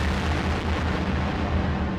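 Closing explosion track from an album: a dense, steady roaring blast of broadband noise with deep low rumble, sustained evenly for about two seconds without a break.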